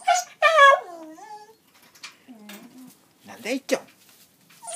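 A pet dog whimpers and whines in several high, wavering bursts close by, alternating with a person's voice speaking to it.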